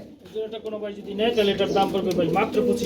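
Pigeons at a market selling breeding pairs coo in low, throaty, warbling rolls, close and continuous, with a voice speaking over them.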